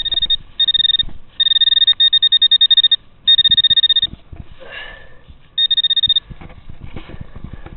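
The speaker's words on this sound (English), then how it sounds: "Tell you one thing about this new pointer. It's ridiculously loud" A new metal detecting pinpointer beeps very loudly in rapid bursts of high, shrill electronic tones, several runs of quick beeps separated by short pauses, close up and alone with a little rustling noise between.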